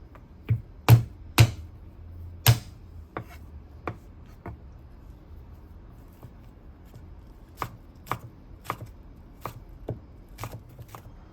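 A knife chops ginger on a board: a few loud sharp strikes early, then a pause, then a quicker run of lighter chops.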